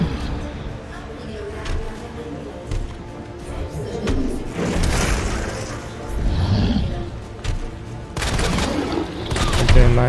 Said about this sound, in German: Dann kann man ihn auf den Rücken schießen.